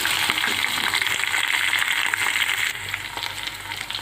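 Green chillies and onions fry in a pan with a loud, dense, continuous sizzle, close up, with faint stirring scrapes and a slight easing of the hiss toward the end.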